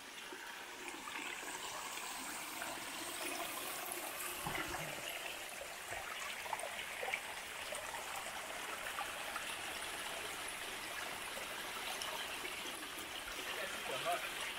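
A waterfall on a mountain trail along Franconia Ridge rushes and splashes steadily and fairly close, a constant watery roar with small gurgling bursts throughout.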